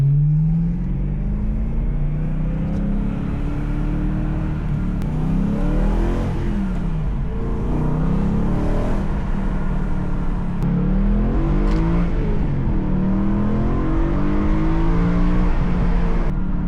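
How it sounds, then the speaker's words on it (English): A BMW M3 E92 with an aftermarket exhaust revs repeatedly with a deep, throaty exhaust note, rising and falling in loud pulls close by. "Time to test this exhaust."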